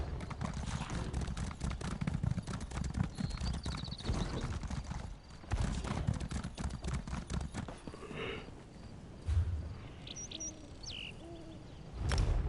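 Hooves of a pure white snow Indrik mount in Elder Scrolls Online clip-clop steadily and loudly for several seconds, then slow and fade, with faint bird-like chirps and game ambience behind.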